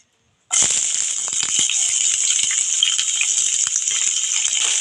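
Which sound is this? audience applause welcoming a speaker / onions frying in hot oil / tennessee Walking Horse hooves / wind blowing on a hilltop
onions frying in hot oil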